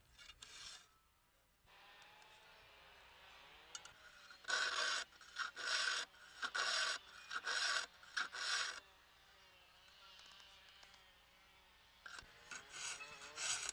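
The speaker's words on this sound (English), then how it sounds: "File the saw tooth at an angle of approximately 17 degrees. Only file in a forward motion on every second tooth." A hand file rasps in forward strokes across brush saw blade teeth, sharpening every second tooth at an angle; a series of short, close, gritty scrapes comes in bursts with pauses between.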